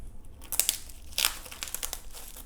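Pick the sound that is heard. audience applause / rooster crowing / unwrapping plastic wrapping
unwrapping plastic wrapping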